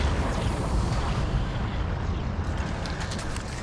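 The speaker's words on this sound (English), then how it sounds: "Glue cannon for the win." In the video game Prey, the glue cannon fires with a loud, sustained, dense spray that rumbles heavily and then tapers slightly, with no voices.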